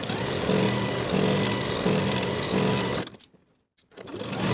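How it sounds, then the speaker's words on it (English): A sewing machine stitches fabric layers along a pleat line in steady, rhythmic bursts of motor whir and needle chatter, then stops abruptly into near silence before starting up again. "Stitch the layers together along the transferred pleat line from the top to the dot"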